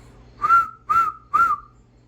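Three short, clear whistled notes at an even beat, forming a three-beat cadence for a whistle detector switch, close and alone against quiet.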